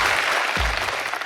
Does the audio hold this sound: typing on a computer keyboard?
no